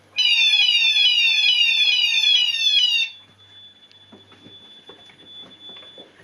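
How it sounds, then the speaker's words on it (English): Chubb Zone Master fire alarm system's bass sounder, a loud rapidly sweeping electronic alarm tone that runs for about three seconds and then stops, leaving a faint steady whine and quiet handling noises. "still got the bass sounder"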